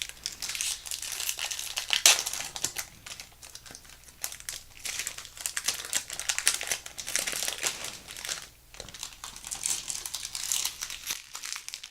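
A foil Amonkhet Magic: The Gathering booster pack is handled and torn open, with continuous close, crisp crinkling and rustling of the wrapper, soft and steady, and no talking.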